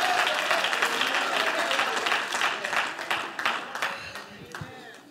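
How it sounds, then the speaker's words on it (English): Church congregation clapping hands during worship, a dense, steady wash of applause that is loud at first and gradually thins and fades toward the end, with voices mixed in. "Clap your hands unto the Lord."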